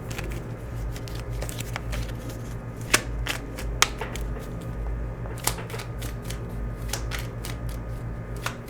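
Oracle cards shuffled by hand at close range, a continuous soft papery rustle broken by a few crisp slaps of cards, with no voice over it.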